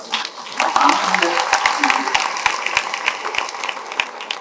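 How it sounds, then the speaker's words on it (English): Audience applause breaks out at a political talk, a fairly steady patter of clapping that rises quickly and carries on at moderate loudness through the whole stretch. "Please put your hands together and give a round of applause to yourself."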